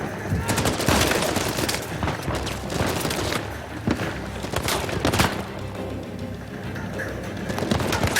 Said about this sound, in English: Crap, who's shooting at me from this side?